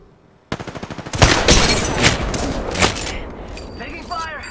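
Rapid automatic gunfire in the video game Chronicles of Wraith, a fast rhythmic burst followed by heavier overlapping shots and booms, loud and close, with distant chirping effects near the end.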